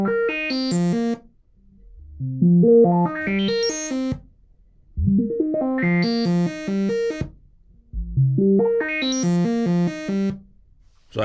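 Sample and hold on an analog modular synthesizer, driven from an LFO, producing four rising runs of stepped random pitches, each a burst of quick bright tones climbing upward before a short gap, loud and alone.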